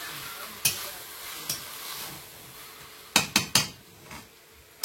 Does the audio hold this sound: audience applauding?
no